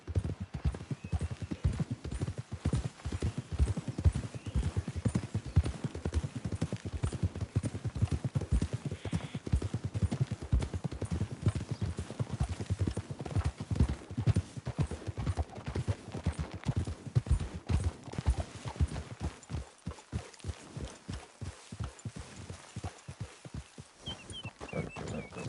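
Several horses walk at a steady pace in a Red Dead Redemption 2 game scene, a continuous dense clip-clop of hooves carrying through the whole stretch and thinning out toward the end.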